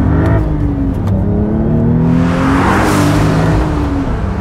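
Porsche 911 Carrera T engine accelerating hard, a loud, close, rising rev climbing steadily in pitch with a rush of intake and exhaust noise swelling midway through.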